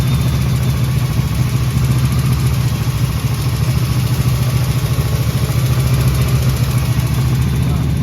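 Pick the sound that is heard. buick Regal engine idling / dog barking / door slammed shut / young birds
buick Regal engine idling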